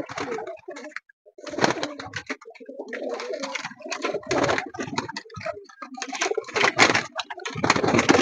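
Pigeons cooing in repeated bursts through most of the stretch, near and fairly loud, with brief quieter gaps between calls.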